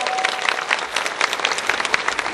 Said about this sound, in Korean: 환영의 박수 뜨겁게 한번 해주시기 바랍니다